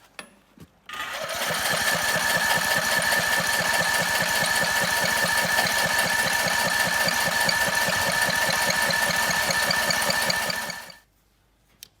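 A small engine at an off-grid cabin, its carburetor float stuck by ice, fires after a short start and runs steadily for about ten seconds with a rapid, even putter, then cuts off abruptly.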